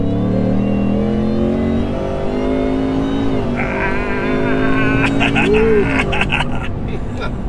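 A Ford F-150 pickup with a new engine tune accelerates hard from a 30 mph roll, its engine note rising steadily and loud up close, with a shifting tone and some background clatter toward the end.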